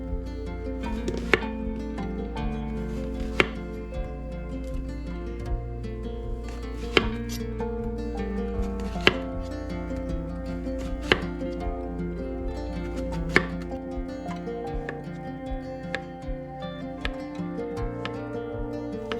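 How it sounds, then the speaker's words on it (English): A knife cuts squash into thick slices on a board for a casserole, giving a steady series of distinct chopping thuds every second or two over low background hum. "And we'll cut these kind of thick"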